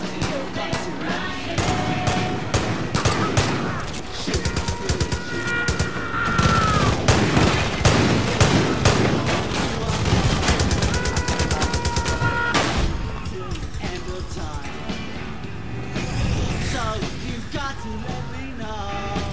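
Sustained automatic gunfire in Far Cry 5, rapid bursts of shots rattling almost nonstop, loud and close, with occasional booms mixed into the barrage.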